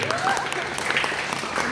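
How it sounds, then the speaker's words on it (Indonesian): An audience at an Arabic grammar training session claps together, a brief wash of steady applause with a voice speaking over it. "Masya Allah, tepuk tangan dulu."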